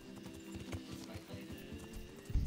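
Horse hooves clip-clopping with a whinny in the Kingdom Come: Deliverance video game, steady soft hoofbeats through the clip ending in a louder snort or neigh near the end, with game ambience behind.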